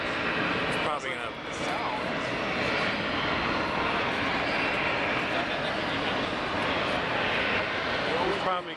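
Aircraft engine roar from a plane hovering over the lakefront at the Chicago Air and Water Show, a loud, steady broadband drone filling the whole span, with spectators talking over it.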